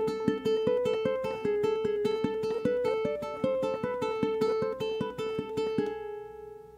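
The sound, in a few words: ukulele playing riff A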